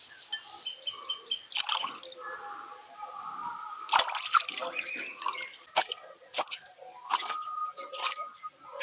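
Raw chicken pieces for KFC-style fried chicken are rinsed under water, giving wet splashes, drips and squelchy handling noises close by in short irregular bursts.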